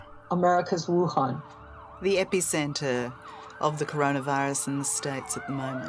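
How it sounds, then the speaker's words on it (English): Ambulance sirens outside, several wailing tones rising and falling through most of the stretch, moderately near, with someone talking steadily over them. "I hear 4 sirens right now outside. These are all ambulances."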